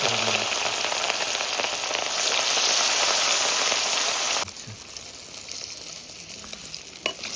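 Rohu river fish pieces fry in hot oil with a loud, dense sizzle that drops abruptly to a quieter crackle partway through, with occasional sharper pops near the end.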